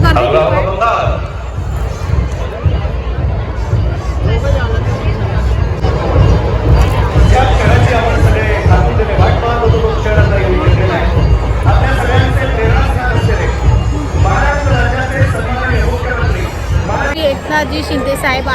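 Dense hubbub of a huge festival crowd, a continuous loud wash of overlapping voices and chatter with no pauses, close and steady throughout.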